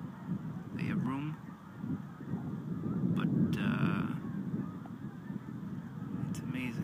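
A flock of geese honking as they leave Long Island, scattered calls near and far over steady wind and outdoor rumble, with a person talking intermittently.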